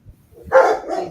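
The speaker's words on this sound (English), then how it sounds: "Goofy dogs." Dogs bark at close range, one short muffled woof followed by a louder, drawn-out bark with no talk over it.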